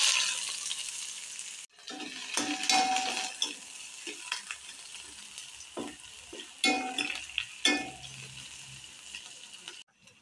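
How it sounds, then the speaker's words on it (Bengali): Onion spring greens dropped into hot mustard oil crackle into a sizzle after a brief pause. Scattered stirring scrapes and pops come and go over a steady frying hiss, close and moderately loud. "তারপর সরষের তেলটি গরম হলে পরিমাণ মতো পেঁয়াজ কলি"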